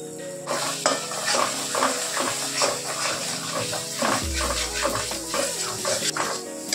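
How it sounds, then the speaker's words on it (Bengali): Spices and masala, including sugar, garam masala and salt, fry in a pan for cabbage paneer. A dense, steady sizzle carries repeated scraping stirs and one low thump near the end, with no talking. "মশলাটা খুব সুন্দর করে ভেজে নিয়েছি"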